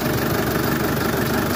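A car engine idles steadily after rust repair, a continuous close, loud mid-to-low running drone with slight knocking texture and no talk.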